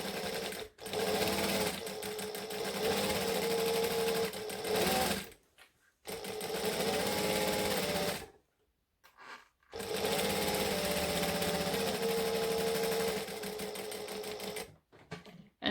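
A sewing machine stitches a men's short sleeve shirt in three long loud runs of steady rapid whirring, with brief pauses between them and no talk.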